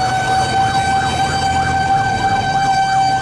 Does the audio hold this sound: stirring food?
no